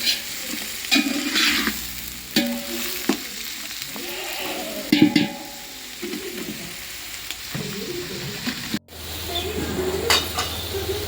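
A kilo of onions fries in oil for Pandharpuri biryani, a constant sizzle broken by repeated scraping stirs and clanks of a spoon against the pot, with birds chirping in the background and a brief cut near the end.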